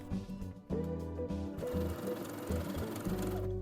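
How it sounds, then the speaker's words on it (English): A sewing machine runs a zigzag stitch to attach elastic onto a knit shelf bra, its steady rapid mechanical chatter close and continuous with a brief pause midway. "Sew along the edge of the shelf bra and elastic, stretching the elastic to fit the shelf bra."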